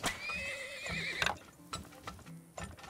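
A horse in the video game Turmoil lets out a loud, shrill whinny that rises and wavers for about a second, followed by a sharp snort and a few scattered hoof clops and soft mechanical clicks.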